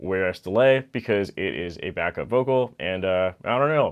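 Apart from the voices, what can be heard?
None of the usual background noises is heard.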